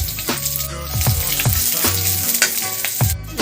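Onions frying in a pan for a Pangasinan-style corn and bitter melon leaf dish give a loud, continuous sizzle broken by repeated scraping stirs, close up and with no talking.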